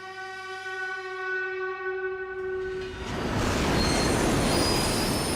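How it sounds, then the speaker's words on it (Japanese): A subway train roars past in a tunnel, beginning with sustained high squealing tones that give way to a loud, dense rushing roar filling the space. "耳を破る轟音とともに四角い巨大な物体が猛スピードですれ違っていった。 地下鉄だ。"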